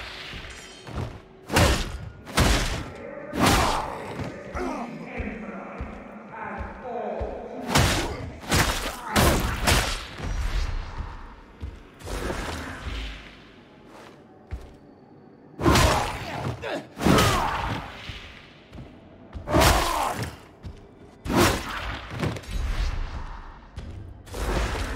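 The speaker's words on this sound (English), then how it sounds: "You can chain light or heavy attacks in any order." Heavy Ogryn melee attacks in Warhammer 40,000: Darktide land as a long run of loud, punchy thuds and crunching impacts, coming in quick bursts with short gaps, over a rumbling game backdrop.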